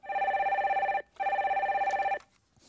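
A telephone rings with two trilling electronic bursts of about a second each, separated by a short gap, loud and close, while the next caller is connected.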